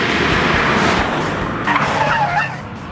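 A 2018 Subaru WRX STI Type RA driven hard on a race track at NCM Motorsports Park, its engine roaring steadily with tire squeal and skidding, fading toward the end.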